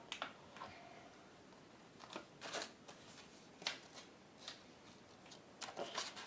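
Scissors snip paper shapes in a run of soft, irregular crisp cuts, faint and close by, with short pauses between bursts.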